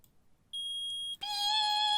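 Beeps from a metal detector in the video game Phoenix Wright: Ace Attorney, two clean electronic tones, a short high beep and then a longer, richer one, close and clear against silence.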